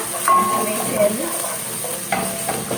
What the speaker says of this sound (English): I'm going to saute my onions until they are salted, and my ginger, about like 3 knobs of garlic and an inch of ginger.